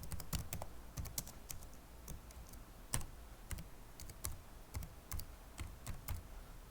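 Quick, irregular clacks from a computer keyboard come close and clear as someone types in short bursts, with brief pauses between runs of keystrokes and no talking.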